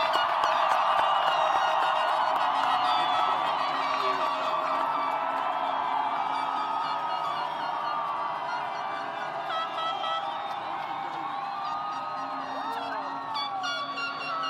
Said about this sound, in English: Can we have one more round of applause for the class of 2025?